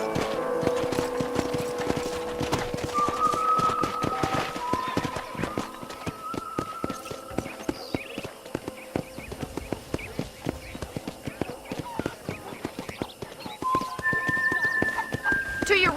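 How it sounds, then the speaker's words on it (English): Horse hooves clip-clop steadily in Red Dead Redemption, the ranch horse's footfalls tapping in a continuous rhythm beneath game music, with a voice talking over parts of it. "I picked out a fine horse for you."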